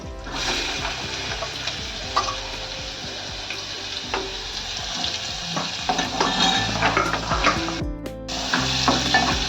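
Curry leaves and onion sizzling in hot oil for a pea curry, a loud close crackle with spatula stirring and scraping throughout, plus a brief clatter of a pot and a short pause near the end.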